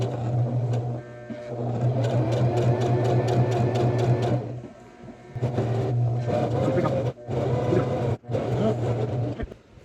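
A sewing machine stitches in the ditch on a Christmas pillowcase, giving a steady close motor whir with a fast rhythmic needle pulse that stops briefly midway, then restarts in short bursts.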